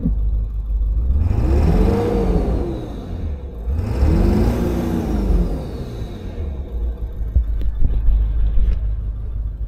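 A used Ford car drives along, its engine droning steadily up close, with turbo whir rising and falling in two long sweeps as it accelerates, under constant road rumble and no talk.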